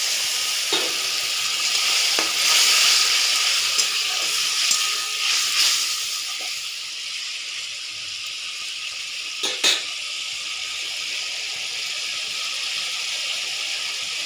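Fish and eggplant curry frying in a pan, a splash of water added and sizzling steadily, a loud hiss easing into a softer, continuous crackle with a couple of brief clatters near the end.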